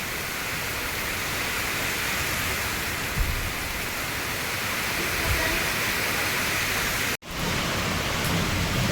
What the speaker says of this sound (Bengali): পুরো বর্ষার বৃষ্টি হচ্ছে এখন।